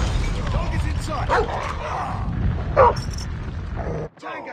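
Dog in a Call of Duty Mobile match gives a few short barks and yips among game noise and radio-style voice callouts, with a thud near the end.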